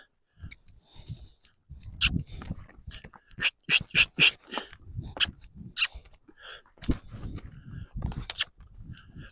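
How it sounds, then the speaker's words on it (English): Corgis bark close by in quick, irregular bursts, several sharp yaps overlapping, with a few quieter gaps between volleys. "Got all kind of corgi dogs barking here."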